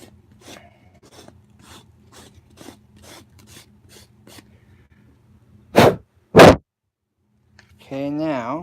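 Sandpaper rasps across the rough wooden surface of a tree stump stool in a run of about ten short, evenly spaced strokes, followed by two louder bursts and a moment of close talk.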